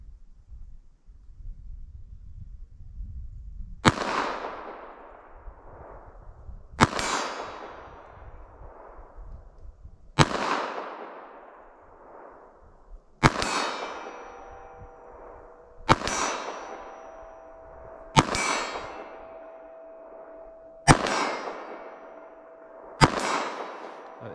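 Eight sharp gunshots from an S&W Shield EZ 2.0 .380 ACP pistol, fired outdoors at a steady pace a few seconds apart, each crack loud and close with a fading echo tail, no talking.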